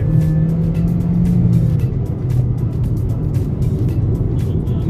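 A 2020 Haval H2 facelift SUV driven while downshifting, heard from inside the cabin as a loud steady engine drone with a brief dip and rise in pitch midway, no talk.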